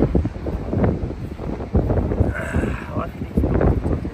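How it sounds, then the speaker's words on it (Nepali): Strong wind buffets and roars in heavy gusts, rumbling loudly, with a voice faintly audible beneath it. "हावा चाहिँ मजाले चल्दो रहेछ"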